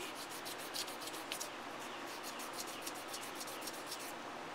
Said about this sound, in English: Watch as Tim sands copper